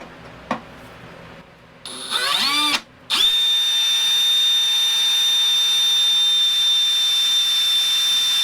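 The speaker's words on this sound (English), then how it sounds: "let's see if we can't get this broken piece drilled out of here" A power drill boring out a broken piece on a Cub Cadet mower deck: a brief tap, then the drill whines up, pauses briefly, and settles into a loud, steady high-pitched drone that runs on to the end.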